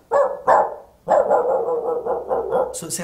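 A voice imitates a dog bark by inhaling, giving two short rough barks followed by a longer string of breathy, throaty yaps, loud and close, with no other sound.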